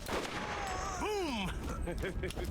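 Gunfire in the video game Borderlands, with shots mixed among sweeping synthetic game tones and effects, steady and loud throughout.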